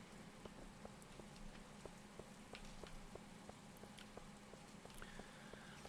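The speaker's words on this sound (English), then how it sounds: "On this wonderful in-game rainy day." Steady in-game rainfall from Stardew Valley, a soft continuous patter with small periodic drip ticks, moderately quiet and alone with no talking.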